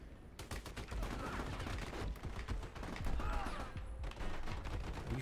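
Dense, rapid gunfire from a shooting video game, with bursts of automatic fire and overlapping shots running continuously throughout, close and loud, with faint voices beneath.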